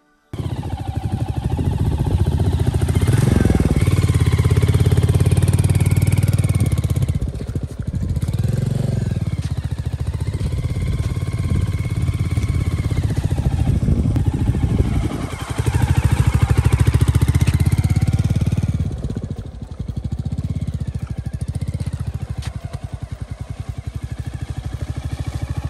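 A motorcycle rides through slippery lake mud, its engine loud and close, revving and dropping in repeated surges with rough clattering as it struggles for grip.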